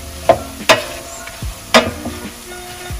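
Cranberries tumble into a pan of softened apples, giving a few sharp knocks and rattles against the pan over a low, faint sizzle.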